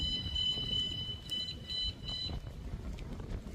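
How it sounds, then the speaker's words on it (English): A Van Guardian alarm on a locked campervan gives a steady high electronic arming tone with a few short pulses, heard outdoors in windy weather at Portsmouth's historic dockyard, with wind rumble underneath. "let's lock my van up safely, or should I say protect my van, with my new Van Guardian alarm"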